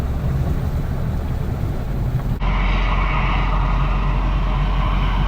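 A combine harvester cuts rice on a farm field, a steady low mechanical drone mixed with wind buffeting that turns brighter and louder partway through, with no talking.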